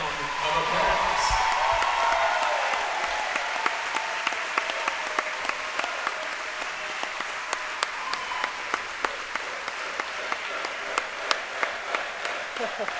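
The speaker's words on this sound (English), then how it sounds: "Let's all stand and give Coach Biff Wilson a huge round of applause." A crowd in a school gym stands to applaud retiring volleyball coach Biff Wilson: broad, sustained clapping that fades into sparser, distinct individual claps, with some voices mixed in underneath.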